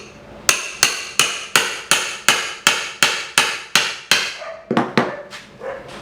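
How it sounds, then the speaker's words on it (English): A pry bar is struck with a hammer to drive it into wooden paneling over a nail: about a dozen sharp, evenly spaced metallic blows, close and loud, followed by a few irregular knocks. "and then hammer it"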